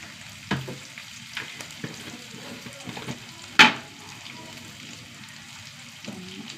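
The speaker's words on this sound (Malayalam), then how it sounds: "ഉള്ളി നന്നായി മൂത്ത് വരട്ടെ." Onions frying in a pan, a steady low sizzle broken by a few scraping stirs and one sharp clatter of a utensil against the pan, close and without speech.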